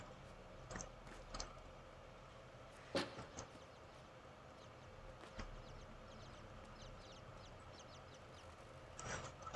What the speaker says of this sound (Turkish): Gene civcivler geliyor.